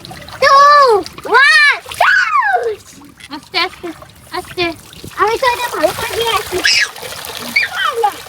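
Water splashes during a baby's bath, bursts of splashing and trickling mixed with a child's playful vocalizing and an adult talking nearby throughout.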